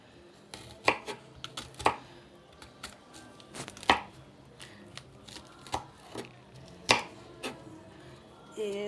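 A knife chops fresh okra into pieces on a cutting board, giving a series of sharp, irregular knocks at close range, with some quieter handling sounds between the cuts.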